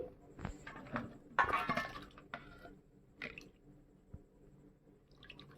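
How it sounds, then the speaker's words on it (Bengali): Mushrooms are rubbed and washed by hand in water, giving soft squelches, drips and splashes with a light clink of a bowl, quiet and irregular. "আস্তে আস্তে রগড়ে রগড়ে মাশরুমটা ধুয়ে নিতে হবে"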